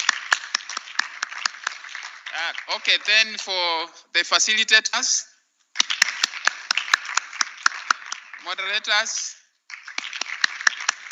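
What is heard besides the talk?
audience clapping at a law conference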